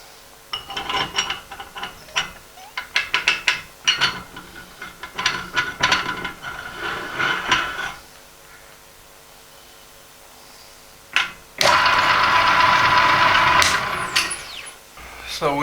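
A meat grinder, fitted with a changed disc, grinds raw meat for German mettwurst at home. Scattered clattering and knocking of parts comes first, then after a quiet gap a loud, steady mechanical whir runs to the end.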